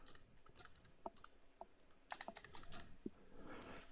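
Quiet, brisk typing on a computer keyboard as a credit card number is entered, a fast irregular run of light key clicks.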